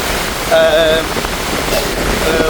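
Storm surf and heavy rain from Cyclone Ditwah pound the Jaffna coast, a steady loud wash of broadband noise with a brief voice or tonal sound near the start.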